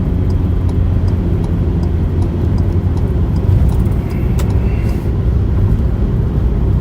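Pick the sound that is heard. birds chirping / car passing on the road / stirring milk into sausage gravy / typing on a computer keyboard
car passing on the road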